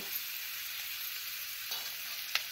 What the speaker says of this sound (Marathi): कांदा परतीते.